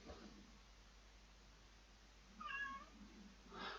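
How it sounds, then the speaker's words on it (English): A cat meows twice in the background, faint and distant over a steady low hum, the second call cut off at the end. "Sorry for the cat in the background."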